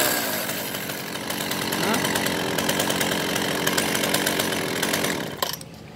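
A Ryobi ESK-3500/4000 chain saw runs loud and steady at close range as the throttle is held, its whining drone filling the scene before dropping sharply near the end when the throttle is released.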